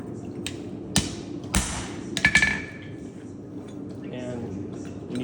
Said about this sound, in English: You need to credential it and punch it a couple of times